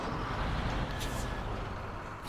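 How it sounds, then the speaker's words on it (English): A loud truck passing through a quiet town area, a dense, close rumble of road and engine noise that holds steady and fades slightly at the end. "It's like this truck is so loud."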